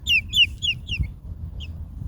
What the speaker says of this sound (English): this call that the chick's doing right now, that's the call that they're calling for mommy